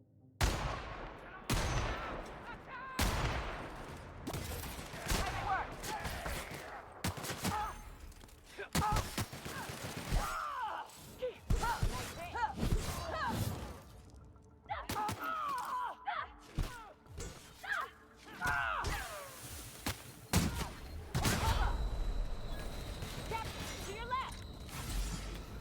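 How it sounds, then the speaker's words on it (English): Video-game gunfire cracks out in scattered bursts and single shots, some near and punchy, others fainter, with several heavy thuds and short quiet gaps between volleys. "Who was shooting at me?"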